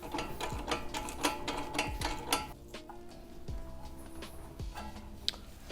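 A ratchet wrench nips up the front camber suspension bolts on a Kei car, giving several short bursts of rapid clicking close by, with quieter mechanical taps between strokes.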